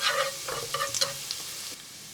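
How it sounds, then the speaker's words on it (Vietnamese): Shallots and garlic sizzle in a spoonful of leftover fat in a pan, a steady close frying hiss with a few stirring scrapes early on, fading slightly toward the end, no speech. "Rồi mình cho nửa muỗng canh hành tỏi vào mình phi lên cho thơm."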